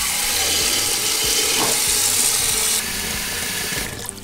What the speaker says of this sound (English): And I'm going to add about half of my pot with water.